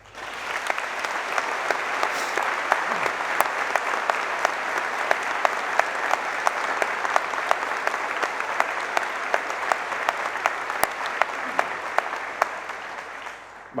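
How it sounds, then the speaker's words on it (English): An audience applauds at a 2017 graduation ceremony for the Institute of Criminal Justice Studies, producing an even, continuous roar of clapping with a few sharp individual claps standing out, sustained for nearly fourteen seconds. "I'd like you to give her a round of applause"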